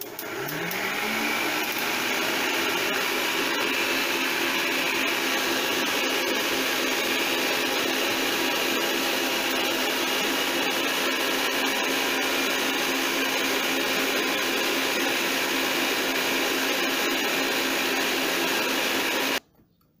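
An electric hand mixer beats cake batter as eggs are added one at a time, a steady loud motor whir that runs continuously for about nineteen seconds and then cuts off abruptly.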